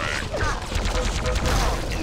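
A Quake III Arena deathmatch fills the moment with dense, rapid gunfire and sharp weapon blasts, including a sniper shot, packed closely together at steady loudness throughout.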